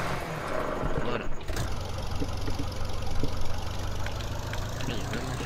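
A tractor engine idles in the Farming Simulator 2013 video game, a steady mid-low rumble after a brief dropout near the start, with someone talking faintly under it.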